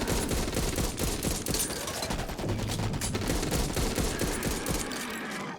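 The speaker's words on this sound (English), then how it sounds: "when this gun fires" Rapid gunfire from a gun in the zombie shooter Back 4 Blood, a steady stream of sharp shots in quick bursts over several seconds, moderately loud with dense game action around it.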